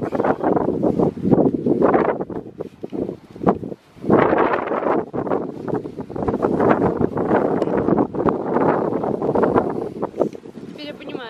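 Strong gusts buffet the microphone outdoors at a countryside dacha, roaring in loud, uneven surges with a brief lull partway through, while people talk over the wind.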